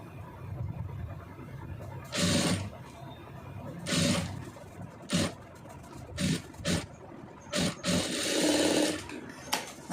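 A sewing machine stitches lace onto a blouse in short, loud whirring bursts separated by pauses, close up, with quiet talk in the gaps.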